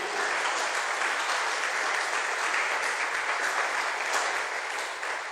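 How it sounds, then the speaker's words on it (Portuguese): A church congregation applauds in a sustained, even wash of clapping that holds steady for several seconds, filling the room at a moderate distance without any speech. "dê um aplauso ao Senhor Jesus"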